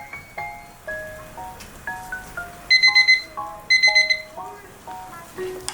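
Kitchen timer alarm chiming while bungeoppang fish-shaped pastries bake, a melodic beeping tune with a brief run of sharper repeated tones in the middle, fairly clear over quiet background.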